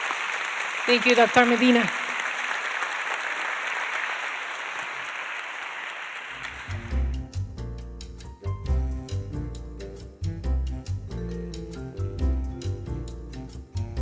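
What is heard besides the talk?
round of applause from audience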